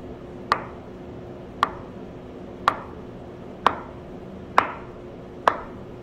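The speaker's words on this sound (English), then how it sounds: "Then just cut into small cubes." A knife cuts silken tofu into small cubes on a board, six sharp, evenly spaced taps about a second apart, close and clear over quiet kitchen background.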